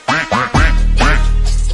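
A duck quacks loudly and close in a series of sharp calls, two short quacks followed by a longer drawn-out one, with nobody talking.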